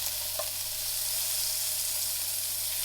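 Butter melting in a hot pan for a toasted sandwich, a steady bright hiss of sizzling with a faint low hum underneath, close and continuous with no talking.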